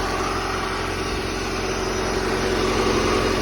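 Honda B18C1 GSR engine swapped into a 1988 Honda CRX, idling with a steady, even hum over broadband noise, close and moderately loud, with no voices.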